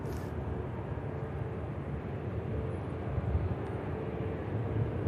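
A departing airliner at Manchester Airport roars as a steady low rumble, moderately distant and continuous, with no talk.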